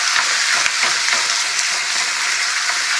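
Cubed meat for pansit sizzles loudly in a hot pan, a dense steady frying hiss with occasional stirring clicks as the pieces are moved around.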